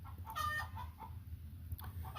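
A Harlequin hen clucks while laying an egg, giving several short, quiet clucks and squawks in uneven bursts, close and faint against a low background hum.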